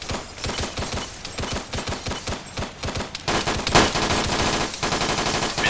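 Heavy automatic gunfire punching through walls in the video game ARMA 3, repeated rattling bursts that grow denser and louder toward the end, close and continuous with no talk.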